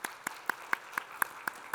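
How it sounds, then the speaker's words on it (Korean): Members of a Korean church congregation at a Sunday service clap to welcome visiting guests: faint, evenly spaced claps, about four per second, steady and unison-like with no talk over them. "우리 박수로 환영하겠습니다."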